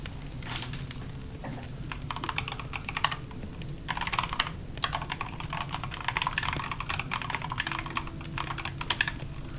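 Rapid, continuous clatter of computer keyboard keys as code is typed, close and fairly loud, with bursts and short pauses over a low background hum and no talking.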